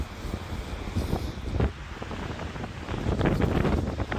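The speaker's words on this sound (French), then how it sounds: "Ah, il y a du vent." Outdoor wind roars and buffets the microphone in a steady low rumble, swelling into stronger gusts toward the end, with no talking.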